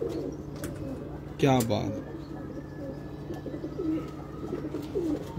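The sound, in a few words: pigeons cooing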